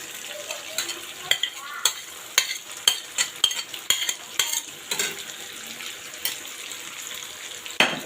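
Lightly browned onions frying in oil with beef tripe, stirred by hand: a soft sizzle under repeated sharp scrapes and clinks of a spoon against the pan, close, irregular strokes, no talking.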